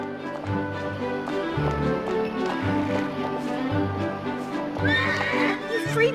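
A horse in the Disney Princess: Enchanted Journey PS2 game neighs loudly near the end, over a bed of looping game music and soft hoof clip-clops.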